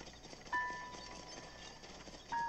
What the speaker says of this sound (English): I heard the sound of a carriage with two horses approaching me